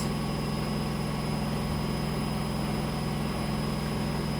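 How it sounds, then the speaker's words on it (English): A domestic washing machine runs in the background, a steady low hum with a faint mechanical drone that holds constant and alone throughout. "Excuse me if you can hear my washing machine in the background, but and it is quite noisy"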